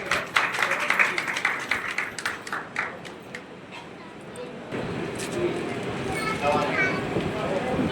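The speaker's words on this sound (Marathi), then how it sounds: "टाळ्या वाजवा" Guests clap at an engagement ceremony, a loose burst of hand claps in the first few seconds that fades as voices and crowd chatter carry on underneath and take over.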